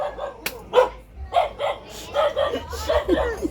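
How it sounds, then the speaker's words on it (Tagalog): Several dogs bark in short, scattered bursts at a Filipino home visit, moderately close, mixed with people talking over and between the barks. "Ang daming aso."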